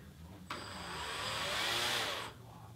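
An electric motor on a Phoenix Evo RC plane throttles up. A sudden, loud, steady whine rises in pitch for about two seconds, then cuts off cleanly.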